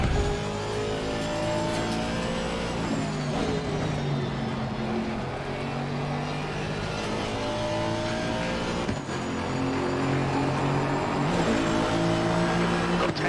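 A race car engine in a sim racing game holds a steady high drone with climbing harmonics and quick pitch drops as gears shift, including one abrupt shift stumble near the end, loud and continuous throughout.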